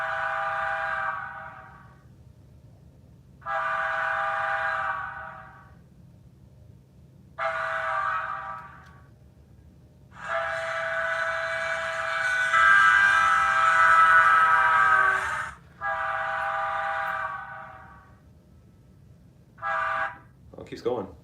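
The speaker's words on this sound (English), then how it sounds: "Doppler horn, my favorite." A passing train horn sounds in several long blasts that shift in pitch as it goes by, separated by pauses, fairly loud over a low rumble, with a few shorter toots near the end.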